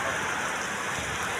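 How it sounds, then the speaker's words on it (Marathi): Heavy summer rain with hail pours down steadily in a village, a dense, loud, unbroken hiss of drops with no pauses and no voices. "काय पाऊस चाललाय जोरदार बघा"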